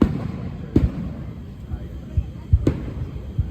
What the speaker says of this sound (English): Fireworks are now popping in the sky.